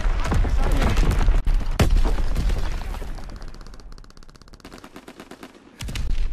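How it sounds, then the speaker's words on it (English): Heavy battle noise in Call of Duty: WW2 on the Anthropoid map, with rapid automatic gunfire, loud booms and thuds of incoming mortar rounds, dipping briefly before surging again near the end. "Enemy mortar fire incoming."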